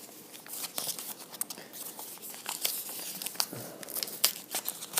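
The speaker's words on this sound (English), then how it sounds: "We have this envelope, which is well taped." Crinkling and tearing of a well-taped envelope as it is handled and opened, close and soft, with continuous rustles and sharp paper rips throughout and no talking.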